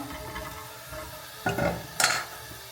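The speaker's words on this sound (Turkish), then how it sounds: "Şöyle hepsini beraber yine kavurmaya devam ediyorum." Potatoes and other vegetables sizzle and get stirred in a pot, with a steady low frying hiss and a couple of louder scraping stirs near the end.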